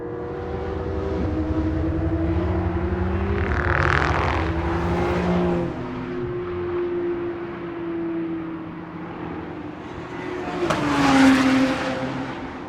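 A 2025 Porsche 911 on a hard push lap: a steady engine drone with bursts of tyre squeal through corners, heard from inside the car at moderate level.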